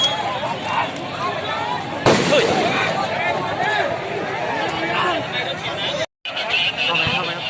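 Ping pong bombs go off repeatedly amid a noisy street crowd during unrest, sharp blasts and crackles over continuous babble and shouting, one loud burst near the start and a brief dropout later.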